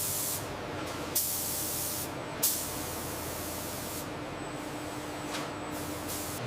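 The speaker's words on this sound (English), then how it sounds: "The robotic system applies a perfectly even layer of primer or color with meticulous" A robotic system on a fake nail tip production line spraying primer or color, giving a loud, continuous hiss with brief bursts where the spray restarts, heard alone against the factory background.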